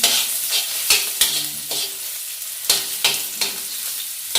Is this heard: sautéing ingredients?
yes